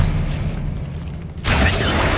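Bombarda blasting spell from the video game Hogwarts Legacy, a loud low rumbling magical boom that swells into a bright, harsh burst near the end.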